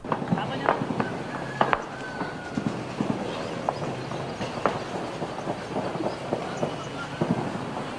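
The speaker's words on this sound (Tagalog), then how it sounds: "Alas 2:30, ang mangilan-ngilang naririnig na putok. Nagsimula ng dumami, nagsimula ng lumakas." Scattered sharp cracks and pops of gunfire in a military encirclement ring out irregularly over a steady background rumble, growing more frequent through the stretch.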